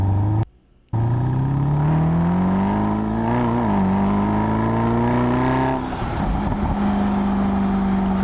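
A Mercedes SLS AMG engine revs with a rising, strongly tonal roar that climbs steadily, cuts out briefly near the start, then eases into a lower, rougher rumble before settling into a steady idle note, loud and close.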